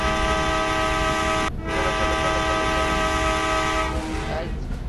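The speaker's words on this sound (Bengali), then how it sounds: "ভালো স্পিডে ট্রেনটা চলছে" A train in the Indian Bike Driving 3D video game runs at speed, a loud steady rumble layered with sustained tonal horn-like drones that briefly drop out and then fade near the end.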